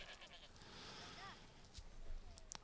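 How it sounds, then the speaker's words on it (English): Sheep in a prehistoric settlement in Dawn of Man give short, faint bleats over quiet ambient game sound, with a few soft clicks near the end. "New animal has been born, 2 more sheep."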